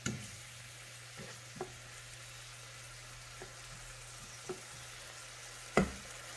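Fermented silver fish (ginamos) being stir fried in a pan, a soft steady sizzle with a few sharp clinks and scrapes of a utensil stirring, the loudest near the end, with no talking.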